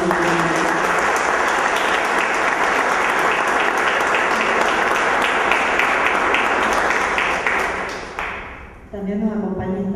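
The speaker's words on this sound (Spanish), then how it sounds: "le damos un aplauso para darle la bienvenida" An audience applauds to welcome a speaker at an evening presentation, a long wash of steady clapping that fades out near the end as a voice begins talking.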